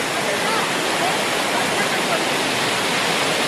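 Strong river water rushing with great force at Nisargadhama in Coorg, a loud, steady, dense roar heard close by for the whole stretch, with no break or rhythm.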